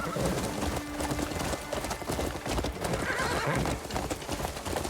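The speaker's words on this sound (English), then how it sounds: "I do like how fast this new horse is." Rapid clip-clopping hooves of a galloping horse with a whinny in the video game Crimson Desert, dense and continuous over busy game-style background sound, no talking.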